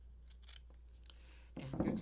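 Scissors trim tag ends with a few faint snips, ending in a louder rustling cut close to the microphone.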